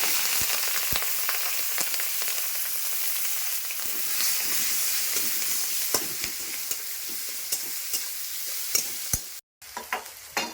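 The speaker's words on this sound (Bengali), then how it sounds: "পেঁয়াজ দিচ্ছি," Onion frying with dried shrimp and black cumin (kalonji) in a pan, a steady close sizzle with sharp stirring clicks and scrapes throughout, broken by a brief gap near the end.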